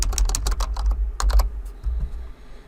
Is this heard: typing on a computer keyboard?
yes